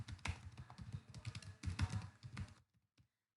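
Quick typing on a computer keyboard, close and quiet, in two bursts of clicking keystrokes that stop abruptly, followed by a few soft taps and then silence.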